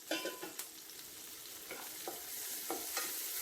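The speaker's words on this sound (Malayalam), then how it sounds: "ഇനി നമുക്കിതിലോട്ട് നമ്മൾ കട്ട് ചെയ്ത് വെച്ചേക്കുന്ന ഇഞ്ചി, വെളുത്തുള്ളി, പച്ചമുളക്, കറിവേപ്പിലേക്ക് ഇട്ട് കൊടുക്കാം." Ginger, garlic, green chili and curry leaves sauté in butter for an egg curry, making a continuous hiss of frying with intermittent stirring scrapes and taps close by.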